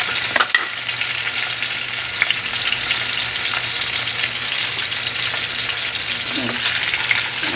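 Bangus (milkfish) browning in hot oil in a pan, a steady dense sizzle that runs throughout, close and fairly loud, with a few faint clinks and no one talking.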